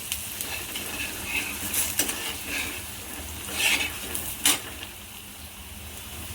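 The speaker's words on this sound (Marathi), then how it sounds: "दुसऱ्या पण बाजूने थोडंसं तेल सोडायचं असं आणि दोन्ही बाजूने असे खरपूस मस्त थालीपीठ भाजून घेईल" Multigrain thalipeeth flatbread fries in oil on a pan with a soft, steady sizzle, broken by a few light scrapes and clinks of a spatula against the metal, with no voices.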